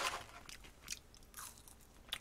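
Crispy french fries chewed near the mic, with a few soft, crackling crunches spaced over a couple of seconds and no one talking.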